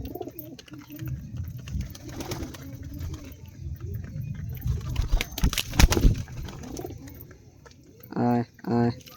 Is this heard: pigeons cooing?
yes